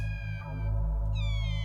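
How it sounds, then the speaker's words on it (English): A cat meows in the sci-fi adventure game Space Quest V, heard as a short, drawn-out tonal cry with steady background game sound underneath and no talking. "There's definitely a cat in there."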